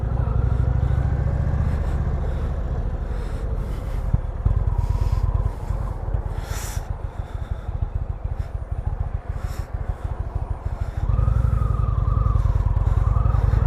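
A 2020 Indian Springfield motorcycle cruises along with a loud, steady engine drone and rumble, easing off in the middle before the engine note swells again near the end, with wind rushing past.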